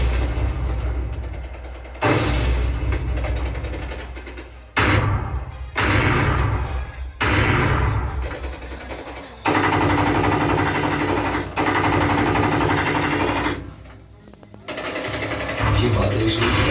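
Bombardment and gunfire effects from a Hindi short film about a border post and the Tanot Mata temple come as dense rattling bursts and heavy thuds in long blocks, under a narrator's voice.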